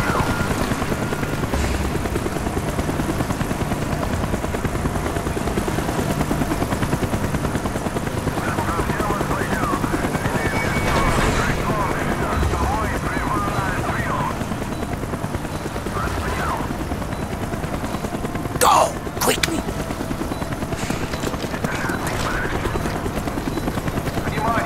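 Helicopter in the Call of Duty Black Ops campaign, a steady rotor drone running under game sounds throughout, with brief sharp bursts near the end.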